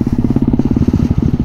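A motorcycle rides an off-road forest trail at night, its engine close and loud with a steady, fast pulsing throb and no talk.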